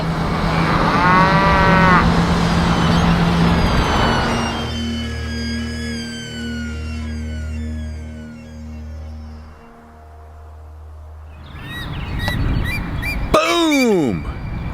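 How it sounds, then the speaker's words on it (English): Cows beside an interstate moo several times, long low calls overlapping one another fairly close by, while bird calls and brief outdoor noises come and go. "look at all these cows that come to say hey to you guys"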